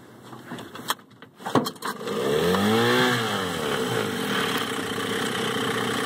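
A 1965 Mercury Merc 110 9.8 HP outboard motor on a fishing boat starts with a few clattering bursts, then settles into a steady, fairly loud running drone with a rising and falling pitch.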